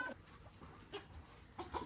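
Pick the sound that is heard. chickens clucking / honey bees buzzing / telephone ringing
chickens clucking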